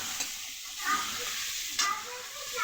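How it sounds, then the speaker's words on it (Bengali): Prawns sizzling in frying onions in a pan, a steady close hiss with brief louder spurts as they are stirred, and no voices. "পেঁয়াজ ভাজার মধ্যেই দিয়ে দেব চিংড়ি মাছগুলোকে"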